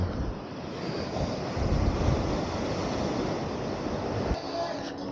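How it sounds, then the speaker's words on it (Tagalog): Strong ocean waves roll in near a public market in Katipunan, a loud, rushing surf swelling and fading with gusty wind buffeting the microphone. "Ang lakas ng alon pala."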